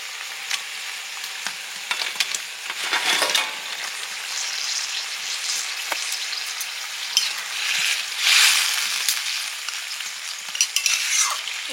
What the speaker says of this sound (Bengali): এবারে চিকেনটা দিয়ে দিচ্ছি।